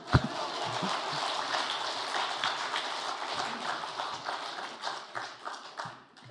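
A church congregation claps together during a Sunday afternoon service, producing dense, sustained applause with sharp individual claps standing out. The clapping fills the space and thins out near the end.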